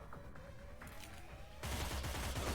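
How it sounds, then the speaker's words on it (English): Gunfire in the Cyber Knights: Flashpoint video game, a faint patter of shots that swells into a louder, denser burst of rapid firing partway through, with no talking. "guards become suspicious because they hear gunfire"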